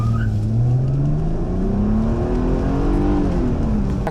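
A Mercedes-Benz W210 E320 V6 engine revs up loudly, its pitch climbing steadily as it accelerates, then dipping briefly before rising again, heard from inside the car.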